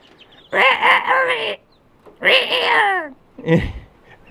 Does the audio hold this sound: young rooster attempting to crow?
yes